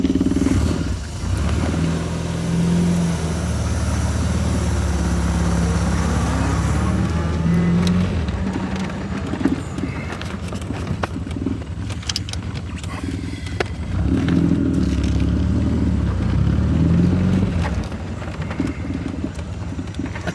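A 1964 GM Pontiac car is heard on a test drive, its engine a steady loud low rumble throughout, with bumps and rattles from the ride and no talking.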